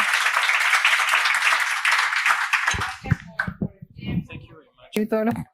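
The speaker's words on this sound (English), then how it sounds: "A round of applause." Audience clapping follows a talk on artificial intelligence at a regional conference, brisk applause for a few seconds that breaks off into a voice speaking over the room.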